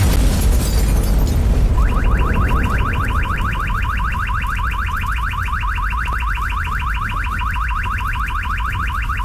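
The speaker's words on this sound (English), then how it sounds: "This truck just explodes." Truck explosion in a movie scene: a loud, broad blast and rumble fill the opening seconds, then a steady rapid pulsing alarm-like chirp tone repeats over lingering low rumble to the end.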